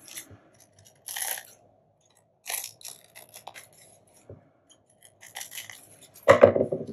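Scissors snipping along the sides of a small layered paper tag, a few separate bursts of crisp cutting close by with quiet gaps between, ending in a louder crunchy snip.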